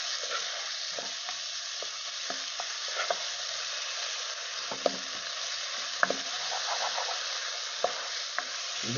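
Okra with turmeric and salt is stirred in a pan, a soft, steady sizzle broken by scattered clicks and scrapes of the spoon against the metal.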